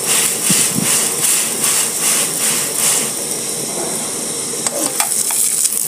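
A Kenyan chapati fries in hot oil and gets turned in the pan, giving a loud, close, continuous sizzle with rhythmic scraping strokes early on and a few sharp clatters near the end.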